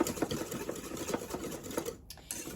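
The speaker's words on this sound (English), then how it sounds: "all I'm going to do is whisk that all together" Whisking a pork and poultry marinade with cracked black pepper in a bowl: quick rhythmic tapping and swishing of a whisk, fairly faint and close, ending with a short pause and a clink.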